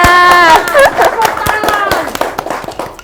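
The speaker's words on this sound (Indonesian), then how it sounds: "Tepuk tangan dong kakaknya." Clapping for a young wayang golek puppetry teacher at an Indonesian arts studio, a short burst of hand claps mixed in with lively talk and voices.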